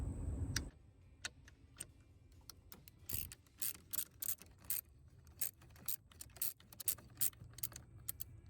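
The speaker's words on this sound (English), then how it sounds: "we'll use the same half an inch socket to take this nut off of here" A half-inch socket ratchet loosens a battery nut on a 2018 Chevy Silverado, giving a close, rhythmic series of sharp clicking bursts with brief pauses between swings.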